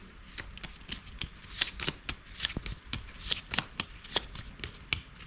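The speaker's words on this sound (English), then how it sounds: "We shuffle." A deck of cards is shuffled repeatedly during a Napoleonic-era naval tabletop game, a string of crisp riffling bursts and taps at close range with no talking.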